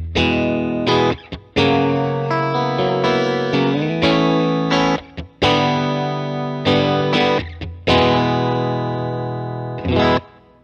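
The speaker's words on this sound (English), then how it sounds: "So here I can turn on the reverb." An electric guitar played through a FlyRig multi-effects pedal with its reverb switched on rings out in distorted chords and sustained notes, each phrase cut short by brief pauses, loud and close with no talking.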